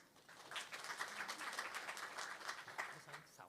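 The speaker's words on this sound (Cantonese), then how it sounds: "而家我哋以熱烈嘅掌聲邀請黃博士" Audience applause welcoming a speaker at an awards briefing, a moderate, fairly even patter of many hands clapping, quiet overall and lasting throughout.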